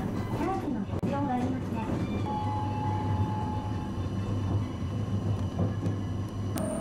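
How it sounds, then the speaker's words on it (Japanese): A Matsuyama city tram runs alongside the moat of Matsuyama Castle, giving a steady, close rumble with a sustained electric motor whine and occasional rattles, with faint voices beneath. "電車は松山城のお堀沿いを走ります。"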